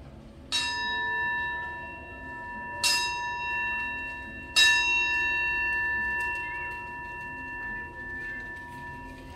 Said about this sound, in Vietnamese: Xin mời em trưởng đoàn đại diện chỉ thị cho em 3 tiếng chuông để cầu an cho đoàn mình.